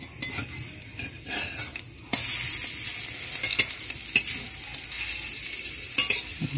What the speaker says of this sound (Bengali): আমরা এটিকে তেলের মধ্যে আমাদের এই বড়া ভাজাটি এক পাশ ভাজা হয়ে গেছে